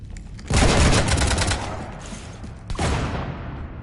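Bursts of rapid gunfire in the Mass Effect 3 video game, a dense volley for about two seconds, a brief lull, then a second loud burst, with no voices over it.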